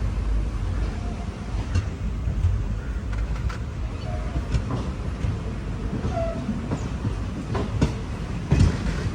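The Guruvayur to Thrissur express train running on its rails in Kerala: a steady rumble of wheels and carriage noise with faint clicks and rattles heard from inside, continuous throughout, without talk.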